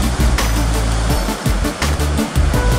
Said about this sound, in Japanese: いい波がブレイクしてますね。